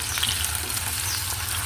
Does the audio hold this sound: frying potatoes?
yes